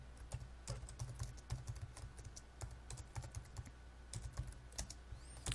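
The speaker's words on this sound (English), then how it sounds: "And let's type some stuff here." Close, steady typing on a computer keyboard, with rapid irregular key clicks and occasional heavier keystrokes going on throughout with no talk.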